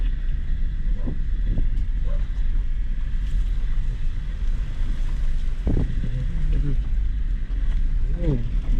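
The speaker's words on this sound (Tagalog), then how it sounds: "Lakas ng hangin, ang lamig." Cold, strong mountain wind on Mt. Banahaw roars steadily against the microphone in a heavy low rumble, with people talking intermittently over it.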